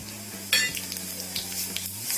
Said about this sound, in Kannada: ಈಗ ಒಗ್ಗರಣೆ ಮಾಡ್ಕೊಳ್ಳೋಣ.